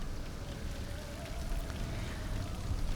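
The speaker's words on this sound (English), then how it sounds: "I like the rain, you know?" Steady, soft patter of rain on surfaces in Star Wars Battlefront II (2005), a continuous gentle hiss with faint droplet detail and no voices.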